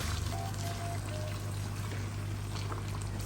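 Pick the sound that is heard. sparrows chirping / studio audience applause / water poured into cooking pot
water poured into cooking pot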